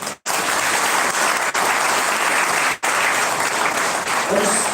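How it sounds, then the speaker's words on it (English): Audience applause at a property launch event, loud and continuous with a few brief cuts, and a voice starting to speak near the end. "I think we can do a bigger round of applause"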